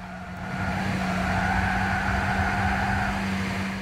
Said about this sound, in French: Vous entendez toujours les célèbres bruits de pneus qui sont là depuis Gran Turismo